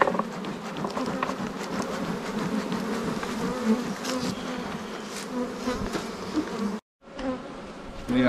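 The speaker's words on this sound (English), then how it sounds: "to give them less area that they have to protect from bees that are trying to rob from them" Honey bees swarm around an open hive in a backyard apiary, a dense, steady buzz of many insects close by that holds throughout, cutting out briefly near the end before resuming.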